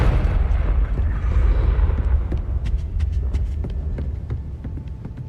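A Confringo fire spell explodes in the Hogwarts Legacy video game, giving a loud, rumbling blast that trails into crackling debris and sharp pops.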